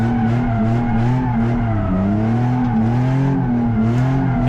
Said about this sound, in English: clutch kick it and just drift around and really, figure out the car